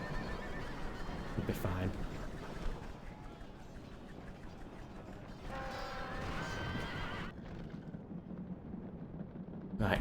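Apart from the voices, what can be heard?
horses of chariots and cavalry fighting in Rome Total War video game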